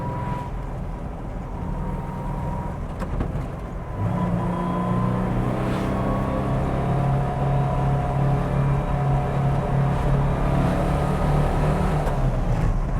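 A hot-rodded 1956 Porsche 356 Speedster engine pulls through the gears, a loud, steady drone close by with a shift partway through and the note climbing again as it accelerates.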